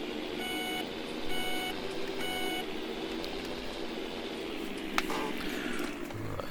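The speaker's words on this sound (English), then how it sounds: "That's my alarm telling me my time is up." A farming-simulator player's alarm beeps in three quick bursts of high, evenly spaced tones over a steady background hum.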